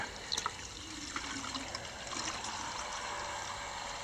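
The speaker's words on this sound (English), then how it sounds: "drain valve coming here, filler cap here, and I just drain it now like that" Distilled coolant drains from the drain valve of a PC water-cooling loop into a tub, a steady quiet trickling and splashing of water that runs continuously, with a few small clicks near the start.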